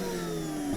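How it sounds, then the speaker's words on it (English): A Hoover vacuum cleaner powered from an EcoFlow portable power station inside a campervan runs with a steady, close motor hum and whine that holds even throughout, ending with a brief shift at the very end. "Turn the Hoover on the vacuum cleaner."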